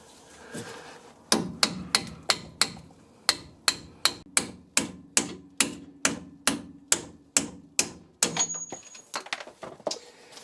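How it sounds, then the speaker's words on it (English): Steady metal hammer blows on a drift, knocking a bolt out of a Porsche 911 996 C4S shock absorber: about twenty sharp, evenly spaced close strikes ringing one after another, slowing and softening toward the end. "let's just drift this bolt out here"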